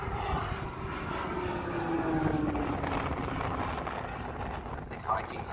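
A fast jet pulls a high G turn at an air show in Southport, its engine roar a steady, distant rising whine with wind buffeting, while a commentator talks over it.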